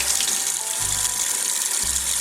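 Lukewarm tap water runs steadily while makeup brushes are rinsed beneath it, a close bright hissing splash with short low thumps as the brushes move under the stream.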